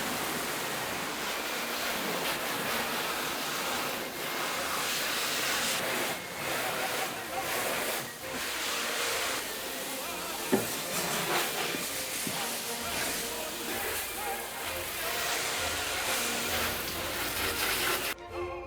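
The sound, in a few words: garden hose spraying water through nozzle attachment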